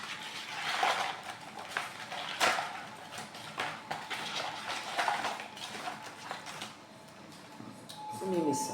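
Oracle cards being shuffled by hand: soft repeated papery riffles and slaps in an irregular rhythm, close and moderate in volume.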